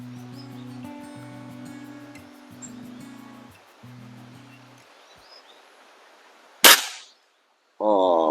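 A Beeman C1 carbine air rifle fires a single sharp crack outdoors after a stretch of quiet birdsong and low hum, followed by brief silence and a burst of noise.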